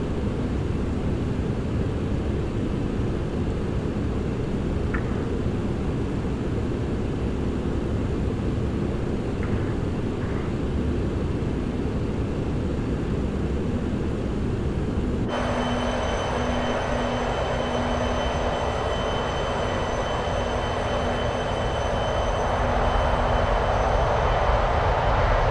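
A TFDi Design MD-11F freighter climbing in Microsoft Flight Simulator: a steady, loud, broadband jet engine roar, with a sustained whine and tonal hum joining about halfway through.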